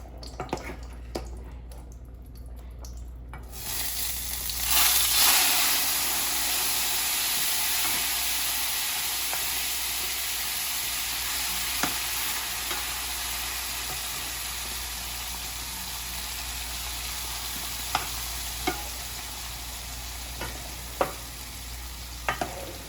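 Homemade beans fry in about two tablespoons of bacon fat, starting with some clatter as they go into the pan, then settling into a steady, close sizzle with occasional small pops and drips, with no talking.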